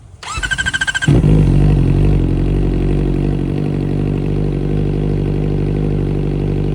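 A motorcycle fitted with a new exhaust starts with a quick rattling crank, then catches and settles into a loud, close, steady idle with a slight throb that stays constant to the end, and no one speaking.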